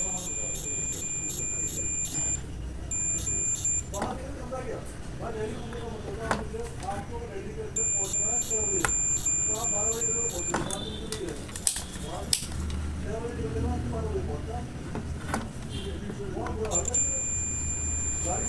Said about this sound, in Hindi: बीप की साउंड भी आ रही है आपको